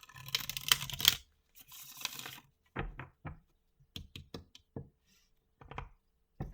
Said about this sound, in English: Hold on, I gotta shuffle now.